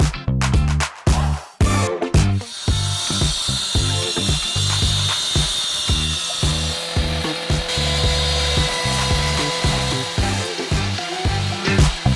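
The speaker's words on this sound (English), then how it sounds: "I like to cut a kerf in the paver with the smaller saw for this radius" A small power saw cuts a kerf into a paver on a patio job, loud and close, starting with choppy bursts and then settling into a sustained rough grinding whine that varies in pitch as the blade bites.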